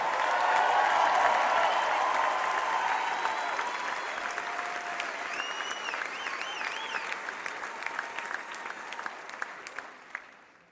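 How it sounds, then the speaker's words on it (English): Audience applause for the 2016 Best Ranger Competition winners at an Army birthday event, a dense, loud roar of clapping that gradually thins and fades over about ten seconds. "Ladies and gentlemen, the 2016 Best Ranger Competition winners. Give them a big round of applause."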